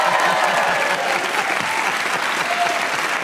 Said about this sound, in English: you can tell by the audience applause that everyone's with me on that